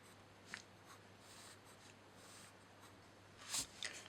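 A pen writes a word on paper beside a character drawing. Faint, close scratching strokes come in short bursts, growing a little busier toward the end, with no voices.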